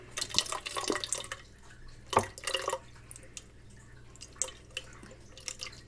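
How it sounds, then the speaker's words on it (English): Water trickles and drips into an upcycled fish tank garden planted with shoots, arriving in uneven splashes and pours with quieter gaps, close and without talk. "I'm going to pop some water in here."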